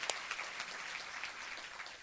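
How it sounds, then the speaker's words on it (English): Scattered clapping from a small crowd at a volunteer awards ceremony patters on, quiet and somewhat distant, with irregular individual claps standing out. "please let us give them a good round of applause"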